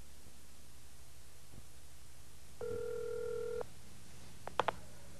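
A telephone line gives a single steady dial tone lasting about a second, followed by a couple of quick sharp button beeps, all thin and close over a faint hiss, with no talking.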